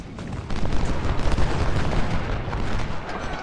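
Artillery fire in the Civil War strategy game Ultimate General: Civil War, a steady barrage of rumbling booms and crackling cannon blasts, dense and continuous.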